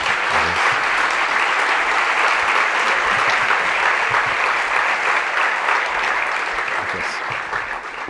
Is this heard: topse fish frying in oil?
no